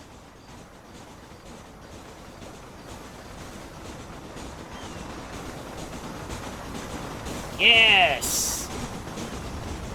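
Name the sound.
train passing in Red Dead Redemption video game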